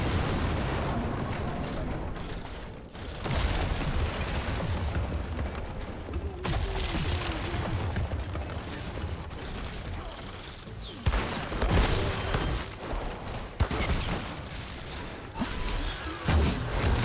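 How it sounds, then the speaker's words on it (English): Game loot bursting out in Outriders, a dense wash of booms, whooshes and crackling effects layered over continuous game noise and music, loud and busy throughout with sharper hits near the end. "Loot explosion."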